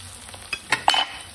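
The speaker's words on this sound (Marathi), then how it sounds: "आणि आता पूर्ण कांदा कढीपत्ता लसूण छानपैकी असे लालसर कलर होईपर्यंत मस्त असे परतून घ्यायचे" Onion, curry leaves and garlic sauté in a pan for a Maharashtrian chana dal dish, giving a brief soft sizzle with a few stirring scrapes and clinks, close and moderately loud.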